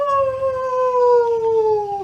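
A child imitates a wolf howl with one long, sustained, strong vocal wail that slowly drops in pitch and then cuts off, loud and close with no other sounds.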